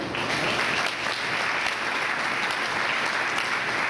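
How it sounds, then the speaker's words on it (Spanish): A church congregation applauds in a dense, steady wash of clapping that fills the whole space and continues evenly throughout, with no talk on top. "¿por qué no le damos un aplauso al Señor?"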